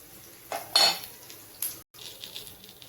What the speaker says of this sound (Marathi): कांदा चांगला लालसर भाजून घ्यायचा.